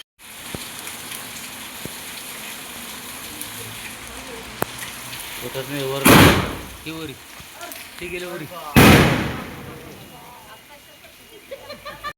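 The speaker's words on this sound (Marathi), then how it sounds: "हे पाऊस चालू आहे गाईज" Steady rain patters throughout on an empty street, with two loud gusty bursts of heavier downpour and a voice talking briefly in between.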